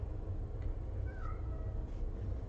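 A cat meows once, a short faint cry that is nearly buried under a steady low rumble of room noise.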